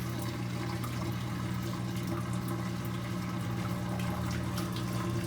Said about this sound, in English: Make sure that's all the way drained out, and you can hear it draining.